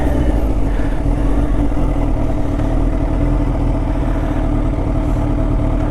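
Kawasaki Ninja H2 motorcycle fitted with a full Trickstar exhaust system, its engine holding a steady, loud, close, deep drone throughout without a break.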